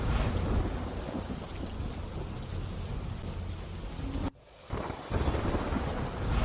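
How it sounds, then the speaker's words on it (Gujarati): Heavy thunderstorm rain in the rural part of Rajkot district pours down as a loud, dense roar, with one sudden drop-out near the end before the downpour resumes. "રાજકોટ જિલ્લાના ગ્રામ્ય વિસ્તારમાં ધોધમાર વરસાદ પડ્યો હતો"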